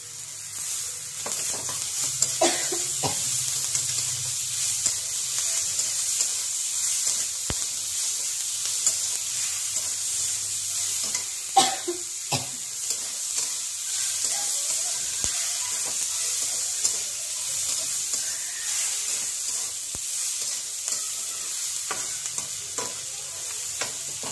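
Onions and tomatoes frying in a pan for a masala dosa filling, with a steady close sizzle and occasional stirring scrapes and knocks throughout, no talk.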